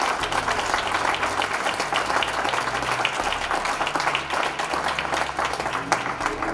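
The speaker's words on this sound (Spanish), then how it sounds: "Dale un aplauso al Señor con todo tu corazón." A church congregation applauds together during a Spanish-language sermon on the Gospel, steady dense clapping filling the room at close range, with some faint voices mixed into the crowd noise.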